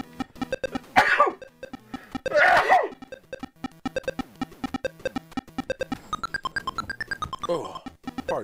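Two sharp bursts like sneezes break out among rhythmic thumping music, loud and close, each followed by a short gap.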